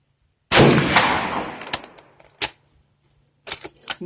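A 7mm Mauser rifle firing a Nosler E-Tip reload gives one loud, close shot that rings and decays over about a second, followed by a few sharp clicks and clinks of the action and brass.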